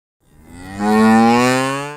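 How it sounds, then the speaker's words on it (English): A single cow moos on a ranch in Pomeroy, Washington, rising into a long, loud, close low bellow that slowly fades, with no voices. "Pete Charrier says his 700 head of cattle is the first stop before the American dinner table"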